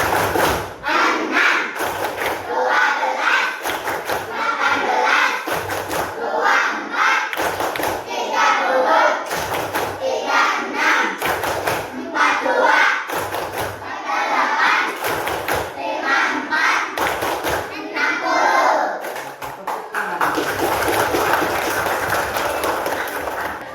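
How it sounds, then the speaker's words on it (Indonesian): A primary school class performs a rhythmic multiplication clapping chant for the six times table, with many young voices shouting in unison between sharp group claps and thumps, loud and close. "Tepuk perkalian"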